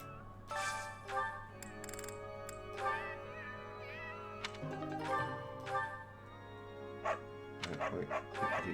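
A dog barks and a black cat meows in Fire Emblem: Three Houses, short yips and mews popping up repeatedly over a steady musical game score.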